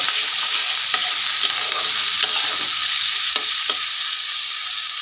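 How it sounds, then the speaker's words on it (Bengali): Onion and tomato with salt and turmeric sauté in a hot pan, giving a loud, steady sizzle with occasional scraping stirs of a spatula, close up and with no voices. "এবার দেবো এর মধ্যে লবণ আর দেবো হলুদ এটা দিয়ে একটু ভালো করে পেঁয়াজ আর টমেটোটা কষিয়ে নেব"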